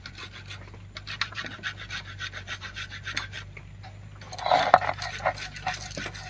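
Repeated rhythmic rasping and scraping as grated raw taro is ground with mustard, poppy seeds, green chilli and salt into a paste, steady close strokes with a brief clatter near the end.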